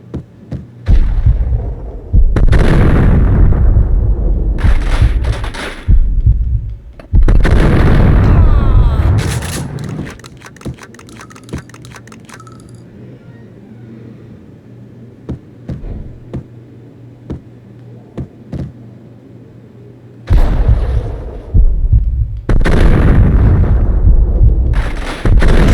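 Shotgun blasts in Max Payne: loud, deep, booming shots come in separate bursts, with a long quieter stretch of low hum between the clusters.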